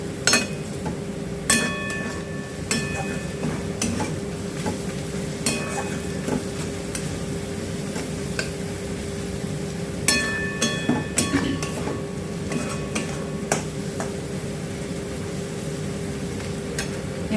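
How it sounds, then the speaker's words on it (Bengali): Spice mix frying in a pan and being stirred with a utensil while making potato chops, a steady soft sizzle broken by repeated scraping and light clinks of metal against the pan. "এবার এই মশলাটা এর মধ্যে একটু নাড়াচাড়া করতে হবে যাতে পুড়ে না যায়।"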